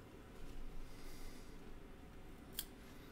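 Scissors snip a wing for tying a caddis fly. A single faint, crisp cut comes over a quiet, breathy background near the end.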